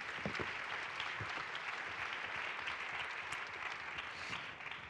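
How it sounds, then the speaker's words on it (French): Audience applause at a French women's parliament event on stage, steady dense clapping from a crowd that holds for the full stretch at moderate level, with no voices over it. "Merci à toutes les trois, on peut les applaudir."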